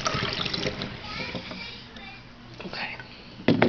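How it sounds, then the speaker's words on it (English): Water poured from one container into a bottle during a child's volume test, a close trickling splash with light sloshing, with a voice and other talk in the room. "I am going to pour the water from this one into this bottle"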